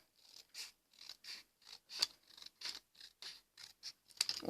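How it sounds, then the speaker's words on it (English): Close, crisp snips of scissors through sturdy paper trim a Christmas tree shape for a gift tag, about a dozen quick, evenly spaced cuts in a steady rhythm. "with a pair of scissors you will need to cut"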